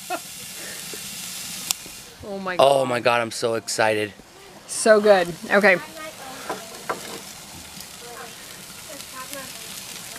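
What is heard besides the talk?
homemade pizza sizzling in a wood-fired oven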